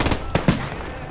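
Gunfire in the WWII shooter Post Scriptum, a short, loud cluster of rapid shots with echoing reverberation in a busy battle soundscape.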